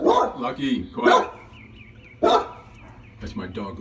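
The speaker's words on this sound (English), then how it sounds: "That's my dog Lucky." A dog barks several times nearby, loud bursts spaced apart with a higher whining tone between them, mixed with a person talking.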